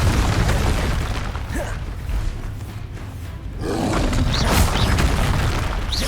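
A Confringo fire spell explodes in the Hogwarts Legacy game, a loud booming blast with a roaring rumble, followed by a second surge of crackling, heavy noise.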